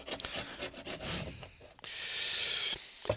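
A plastering trowel scraped hard to remove plaster residue loosened with Eradicrete, giving rough rasping strokes in quick succession, then a longer continuous scrape, close and fairly loud with no talk.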